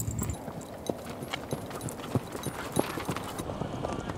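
A racing horse's hooves clip-clop on grassland beside Chagan Lake in the Chaganhua area, a steady run of close, distinct hoof beats over a rumbling outdoor background.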